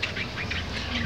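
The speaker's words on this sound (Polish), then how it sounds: "Ptaszki na to ci nie pozwolą." Bird calls and squawks overlap in a busy dawn chorus at 5 a.m., several voices chattering loudly and close over a steady background.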